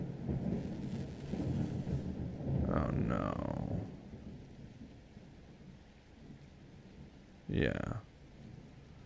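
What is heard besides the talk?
thunderstorm with thunder and rain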